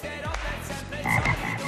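Frog croaks played as a sound effect on an Italian television game show, a few loud rhythmic croaking calls over studio ambience with no talk.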